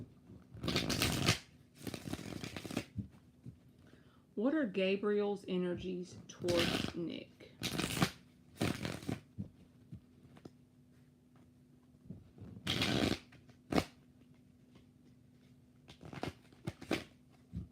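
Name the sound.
shuffling tarot cards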